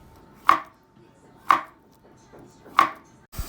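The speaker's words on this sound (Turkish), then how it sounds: "Ardından içerisine koyacağım muzları doğruyorum." A knife slicing bananas on a board for a magnolia dessert, three crisp evenly spaced chops close up, each ending on a solid knock, then a faint clatter at the end.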